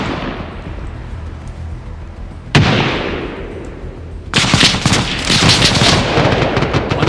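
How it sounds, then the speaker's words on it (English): Heavy gunfire in Stalker Reforged: a sudden loud shot, then a dense burst of rapid automatic and sniper fire crackling continuously near and far across a farmhouse firefight. "Got 2 snipers in the tree line, just trying to put down as much fire as possible."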